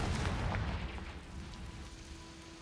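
Confringo blasting curse in Hogwarts Legacy, a deep rumbling burst of explosion that fades out over a couple of seconds, heard alone without speech.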